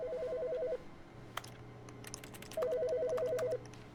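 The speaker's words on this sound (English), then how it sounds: "There's a phone ringing." A telephone rings in two bursts of warbling electronic trills, one at the start and another about two seconds later, alone against a quiet room with a few faint clicks between.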